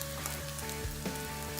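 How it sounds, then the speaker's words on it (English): A soft, constant crackling sizzle of oil frying fishcakes runs throughout with a low steady hum beneath, no voices. "you want enough oil to be sizzling up around the sides"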